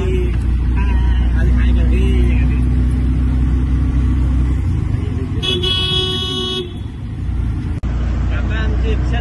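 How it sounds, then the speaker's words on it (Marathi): An auto rickshaw drives through Borivali traffic with a steady, loud engine drone and road rumble, a short horn toot sounding near the end while people talk over the ride. "आता आमची रिक्षा चालवत आहेत, आम्हाला सोडतात गणपती कारखान्यामध्ये।"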